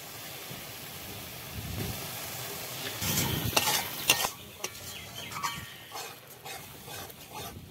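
Chicken and spices, seasoned with turmeric powder and salt, stir-fried in a pan for chicken kosha tandoori: a scraping, sizzling stir that grows louder midway with a few sharp clatters, then eases into steady frying.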